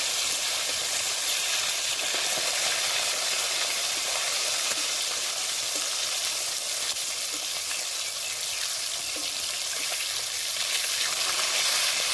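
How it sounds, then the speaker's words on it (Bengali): Rohu fish pieces frying in hot oil in a pan, a continuous loud bright sizzle and crackle that holds steady throughout with no talk. "মাছগুলো এবার উল্টে দেব এক পাশটা ভালো করে ভাজা হয়ে গেছে"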